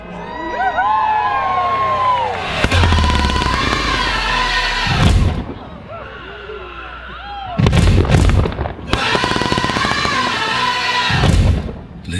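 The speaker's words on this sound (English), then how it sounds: "sit back, relax, and enjoy the greatest fireworks show on Earth" Big public fireworks display: loud repeated booming explosions arrive in clustered volleys, with whistling, crackling shells between the blasts and a brief quieter lull in the middle.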